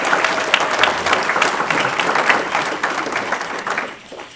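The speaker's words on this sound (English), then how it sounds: "Please give Mrs. Bowers another round of applause." A round of applause for a teacher at a county school board meeting, a room of people clapping steadily and fairly loud, fading out toward the end.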